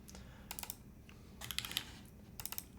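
Computer keyboard typing, quiet clusters of crisp key clicks in three short bursts separated by pauses, close and alone.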